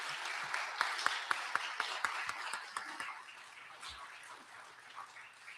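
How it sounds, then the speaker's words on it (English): Scattered clapping from a small crowd at a legislative candidate forum, a steady patter of hands that gradually thins out and fades. "join me in a big round of applause for our candidates"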